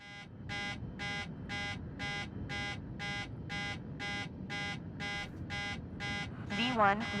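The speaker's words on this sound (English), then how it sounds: "Why are you beeping?" Rapid, evenly spaced warning beeps from a cockpit in the MSFS 2024 flight simulator repeat steadily over a low hum, and a voice cuts in briefly near the end.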